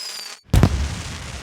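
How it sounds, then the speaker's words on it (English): Cartoon fireworks at a Chinese New Year dragon party: after a brief hush, one loud booming burst hits and then rumbles and crackles away. "What a lovely firework display."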